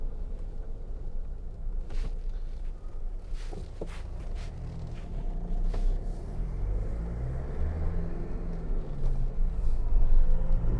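A 2009 Jeep Wrangler Sahara Unlimited with a 2.8 engine drives along a road, giving a steady low engine and tyre rumble that swells slightly toward the end, heard close from inside the cabin.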